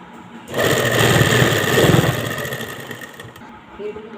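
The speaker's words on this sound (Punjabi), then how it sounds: "ਇੱਥੋਂ ਆਪਾਂ ਨੇ ਇਹ ਸਲਾਈ ਲਾਉਣੀ ਸ਼ੁਰੂ ਕਰ ਦੇਣੀ ਹੈ" A sewing machine stitching a garment neckline, a steady close whirring run that starts abruptly and holds for a few seconds before easing off, with a voice talking lightly over it.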